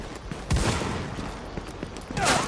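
Gunfire in the video game The Division, bursts of rapid shots at moderate distance, one burst near the start and another near the end, over a steady background din.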